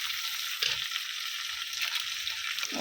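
Chopped garlic, onion and cumin powder sizzle steadily in hot oil up close, with faint occasional stirring clinks and no talk.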